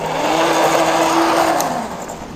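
A small toy car's electric motor whines steadily as it drives in reverse, a near, fairly loud buzzing hum that shifts slightly in pitch before easing off at the end.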